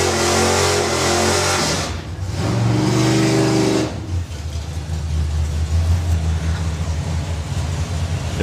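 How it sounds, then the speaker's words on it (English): A V8 drag racing doorslammer roars through a loud burnout, the engine revving hard and holding a sustained, harsh blare that briefly drops before surging again. "There is something about a V8 doing nice big burnouts, isn't there?"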